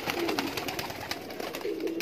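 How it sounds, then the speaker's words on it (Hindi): Teddy pigeons, a breed kept for their eyes and feathers, coo softly from close by. Two low, drawn-out coos stand out over a constant background hiss, with no one talking. "और ये भी एक टैडी कबूतरी है"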